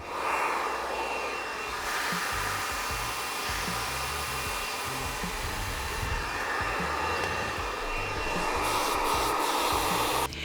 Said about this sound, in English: start blowing out with a round brush